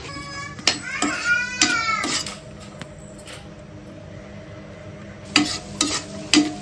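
Cashews fry in ghee for bread halwa with a soft, crackling sizzle, broken by sharp scraping stirs of a spoon against the pan and a brief high whining sound near the start.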